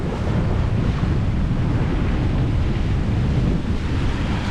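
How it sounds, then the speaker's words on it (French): Strong gusts of about 20 knots roaring steadily across the microphone at sea aboard a sailboat with a reefed genoa, mixed with continuous wave and water rush, loud and unbroken with no voices. "Se prend des bonnes rafales à 20 nœuds."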